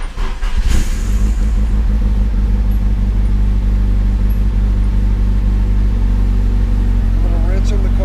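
A turbo-swapped car engine cranks and catches, then settles into a loud, steady, rumbling idle close by, running a little rich on the cold start, while a person talks over it.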